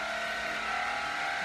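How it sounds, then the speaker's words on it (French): A neighbours' power drill running during renovation work gives a steady, continuous whining drone that holds without a break, with no voices over it. "Désolée pour la perceuse."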